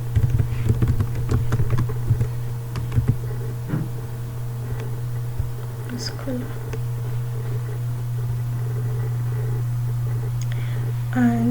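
A search term is typed into an academic database on a computer keyboard, giving a short run of close key clicks at the start that then give way to a quiet, steady hum.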